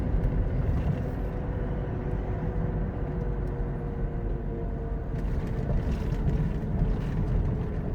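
Loud, steady roar of mud-terrain tyres on a moving pickup at about 80 km/h with the windows shut, a constant droning hum on an uneven road, with no talk.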